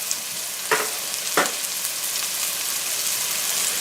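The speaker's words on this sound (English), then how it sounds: "those mushrooms are cooking away nicely" Shiitake mushrooms sizzling in butter in a pan, a steady close hiss broken by two sharp clinks of a utensil early on.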